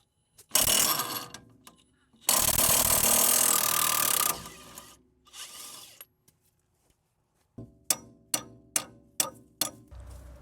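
A heavy-duty wrench works a 24 mm strut nut on a Mercedes ML350. Two long bursts of loud rasping ratchet noise are followed by a quick run of sharp, evenly spaced clicks, all close up.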